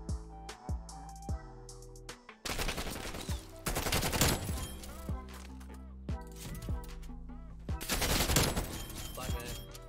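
Rapid automatic gunfire in the video game Call of Duty: Black Ops Cold War during a 4v4 GameBattles match, loud bursts and dense volleys with scattered single shots, brief pauses between them, and some faint talk mixed in.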